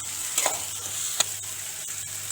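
Tomatoes and masala sauté in a pan for a home-style curry, giving a soft, steady sizzle with a few brief scraping clicks from stirring, close and without speech.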